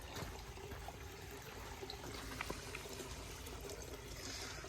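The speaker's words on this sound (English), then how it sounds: "There's the little creek feeding it" A small creek trickles into a little waterfall in a nature preserve, making a steady, faint wash of running water that continues evenly from start to finish with no talking.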